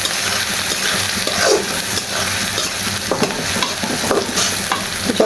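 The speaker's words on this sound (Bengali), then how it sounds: "পেঁয়াজটা নাড়াচাড়া করে নিতে হবে।" Onions frying in a pan for bhuna khichuri are stirred continuously, giving a loud, close, crackling sizzle with repeated scraping strokes of the spatula.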